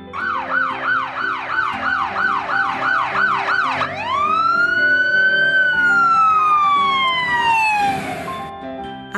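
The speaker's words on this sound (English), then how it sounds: "Ambulance." An ambulance siren wails loud and close, first in a rapid repeating yelp, then shifting into a long rising and falling wail that slowly fades, with no voices.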